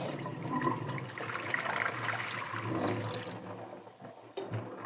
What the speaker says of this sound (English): I dump these straight into the sink